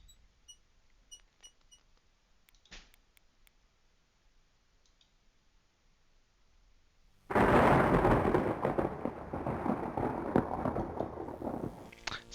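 Thunder in the Quest for Glory IV: Shadows of Darkness video game, a sudden loud rolling rumble that bursts in after faint clicks and sustains heavily for several seconds.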